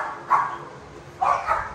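Pit bull dogs bark outdoors, two separate mid-range woofs about a second apart over a low background hiss.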